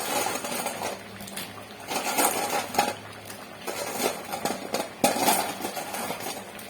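Curry broth for green banana and lentil fritter curry bubbles steadily in a pot as fritters are dropped in, with intermittent metallic clinks of a utensil against the pan and no talking.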